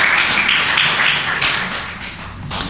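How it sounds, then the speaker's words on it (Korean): A church congregation applauding in welcome, dense and loud hand-clapping that fills the room continuously and tapers slightly toward the end. "큰 박수로 환영하시겠습니다"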